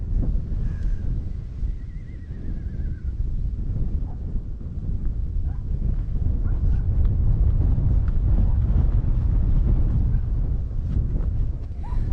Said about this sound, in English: The wind is strong enough to push me around today